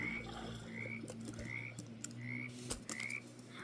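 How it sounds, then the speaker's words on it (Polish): Frogs croak in a steady, repeating rhythm, several calls spaced about half a second apart, fairly faint against a low outdoor background hum. "No patrzcie, żaby przywrócili."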